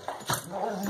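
Pit bull dogs growling and whimpering during a tug of war game, a brief, close, continuous rumble with a yip-like rise near the start.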